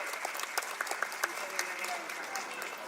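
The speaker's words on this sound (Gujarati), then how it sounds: "એટલે એક તાળી તો ઉષાબેન માટે થઈ જ જાય." Audience applause at a Women's Day celebration by an NGO in Vadodara, honouring an organiser: a steady patter of many hands with sharper individual claps, moderately loud and continuous for the whole stretch.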